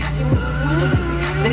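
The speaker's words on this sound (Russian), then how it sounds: "Переход в хороший дрифт." A stunt motorcycle drifts in a competition run, tyres skidding in a steady loud squeal with engine drone, two sharp downward swoops marking quick slides over a brief stretch.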